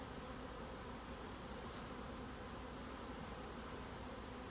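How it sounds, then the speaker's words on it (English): Steady, dense insect buzzing of many bees, continuous and close, with no talking. "They're some good bees, ain't they?"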